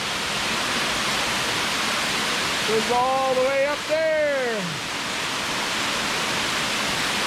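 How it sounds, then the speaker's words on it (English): A waterfall spills beside a mountain road in the Philippine mountain provinces, flowing down from a pine forest and crossing the road. It makes a constant, even rushing roar while someone talks over it. "there's just this amazing waterfall right here."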